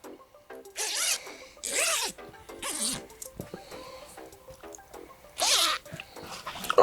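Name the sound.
zipper of a carp fishing weigh sling being opened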